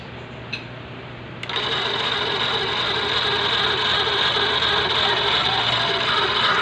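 A motorized rewinding machine, converted from a hand-cranked one, starts its motor after a short quiet pause and then runs with a steady, even electric hum close by, with no talking.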